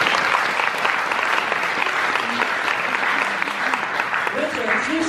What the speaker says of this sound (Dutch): Graag een applaus voor de wethouder.